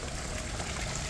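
Clean water flows steadily from a spring source outdoors in Japan, a soft continuous rushing with no break and no voices.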